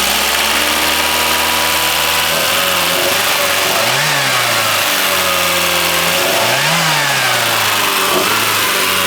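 A fuel-injected race car engine with a slight misfire revs repeatedly, rising and falling through two sharp throttle blips over a steady, rough idle; loud and close with no talk.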